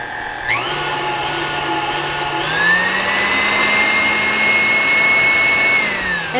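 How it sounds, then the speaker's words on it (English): Electric mixer beating flourless red velvet cake batter, a steady close whirring drone that steps up to a higher speed partway through and winds down near the end, no talking. "And then you're going to mix this on up again."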